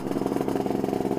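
A Lambretta scooter fitted with a BGM225 cylinder kit runs close by, its two-stroke engine giving a rapid, even buzzing pulse for a brief moment.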